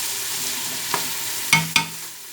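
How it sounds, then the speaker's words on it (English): Garlic and onions sizzle in a pan as a spoon scrapes and stirs, with a few sharp clinks and scrapes rising over a steady frying hiss. "Got the garlic with the onions starting to brown up a little bit."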